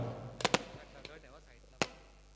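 A few sharp firecracker bangs pop in quick succession at the opening ceremony of a village tournament, then a single louder crack follows after a pause, over faint background murmur.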